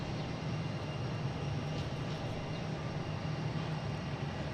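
A JetBlue airliner at Boston Logan airport gives a low, steady jet engine rumble, moderately faint and distant, holding evenly throughout with no talking.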